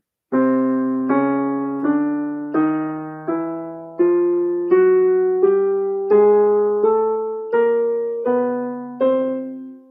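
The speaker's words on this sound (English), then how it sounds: "For a chromatic scale, it's nothing but half steps, and it sounds like this." A plucked or keyboard tone climbs a chromatic scale in half steps, about a dozen evenly spaced notes, each ringing and fading before the next.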